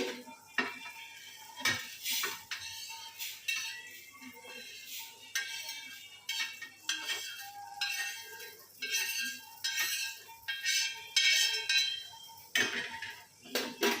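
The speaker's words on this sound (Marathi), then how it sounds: "आता तीळ काढून घेते" Roasted sesame seeds are scraped out of a hot pan with a metal spoon, giving repeated close clinks and scraping strokes in an uneven rhythm over a faint sizzle.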